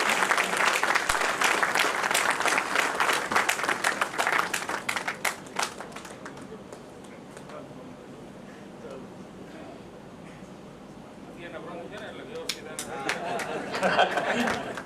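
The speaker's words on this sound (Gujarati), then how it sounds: "ડબલ તાળી હોવી જોઈએ" Audience at an inaugural function breaks into loud applause, dense clapping for several seconds that fades to a murmur of chatter, then swells again with another burst of clapping near the end.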